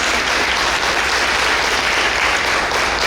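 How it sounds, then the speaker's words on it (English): Steady applause fills a large room at a community breakfast event, dense and continuous clapping from a seated audience with no break for its full length. "let's give him a round of applause."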